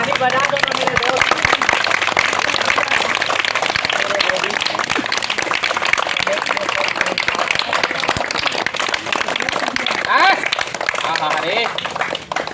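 Crowd applause at an outdoor street magic show, dense continuous clapping mixed with loud talking and shouting from people nearby.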